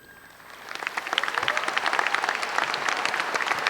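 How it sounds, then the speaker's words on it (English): Applause at a high school graduation ceremony honoring graduates enlisted in the armed forces, rising from quiet into dense, sustained clapping from a large seated crowd that stays loud to the end. "Please stand and allow us to honor you with applause."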